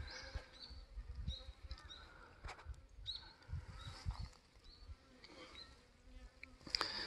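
Korean native honeybees stream out of a wooden hive box entrance in winter, a close, continuous insect buzz with individual wingbeats rising and falling as bees fly past, no speech.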